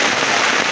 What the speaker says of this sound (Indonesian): Hujan deras